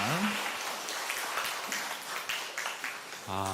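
A church congregation applauds in praise during a Sunday service, a soft diffuse patter of many hands heard at a distance, with a voice briefly talking and a sustained tone at the end.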